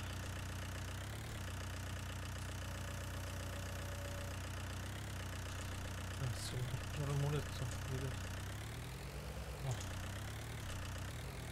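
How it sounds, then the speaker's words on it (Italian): A tractor engine idles in a farming video game, a steady low rumbling drone with a mid-clip surge and some clattering, heard quietly with a voice speaking over it at times. "Piazzar, vieni ad aiutarmi col trattore"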